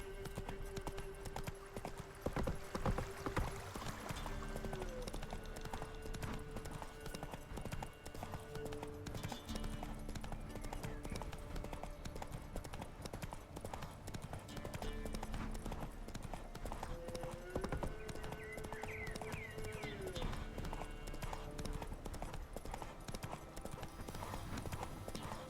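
Roach the horse's hooves clip-clop steadily at speed in The Witcher 3, a continuous rhythmic pounding under game music and intermittent voices.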